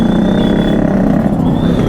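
A Yamaha RX100 motorcycle engine running steadily and loud up close, a dense, even two-stroke drone with no pauses and no talk.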